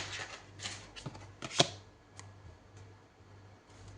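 Tarot cards being shuffled and drawn: a run of soft papery riffles and slides, close by, with one sharp snap of a card near the middle, over a faint steady hum.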